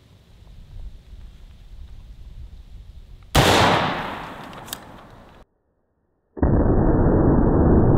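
An AR-15 fires a Black Hills 77 grain OTM hollow-point round into a test medium, giving one sharp, loud, close report that decays over about two seconds, followed later by a second loud burst.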